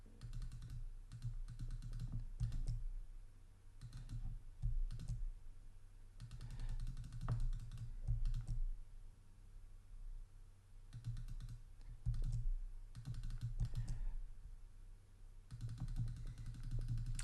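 Computer keyboard and mouse clicking during photo retouching, quiet close bursts of light taps and clicks separated by short pauses, with no voices.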